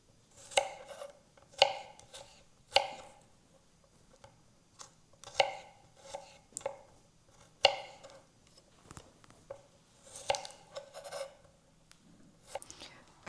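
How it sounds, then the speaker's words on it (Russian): Kitchen knife slicing garlic into thin strips on a cutting board, a series of crisp, irregular chopping taps spaced about a second apart, close and fairly quiet. "И будем нарезать на такие вот полосочки."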